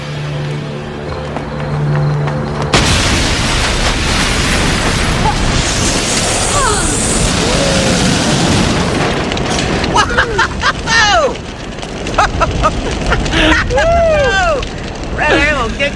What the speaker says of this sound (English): blew up something big